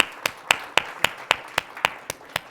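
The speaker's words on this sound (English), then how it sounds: "I want to extend a round of applause to our amazing speakers today" Steady hand claps at a conference as speakers are thanked, about four crisp claps per second, evenly spaced and fairly faint, with no talking.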